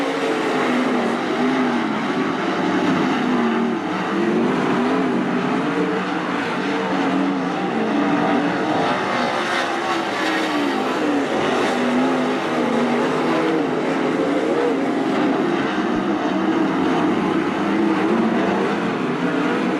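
Race cars in a heat race at Attica Raceway Park roar continuously as the pack circles the track, a loud, sustained engine drone with rising and falling whine throughout and no talking.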